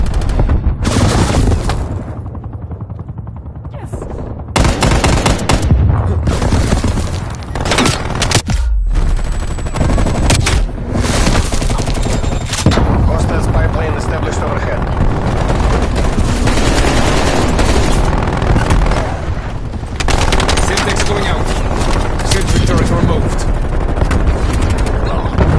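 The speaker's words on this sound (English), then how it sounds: "Hostile sentry turret active." Sentry turret gunfire in the video game Call of Duty Cold War, loud sustained automatic bursts and booms filling the whole stretch, mixed with dense battle noise and game voice lines.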